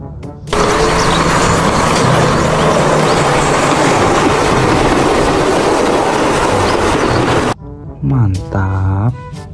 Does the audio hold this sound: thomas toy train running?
yes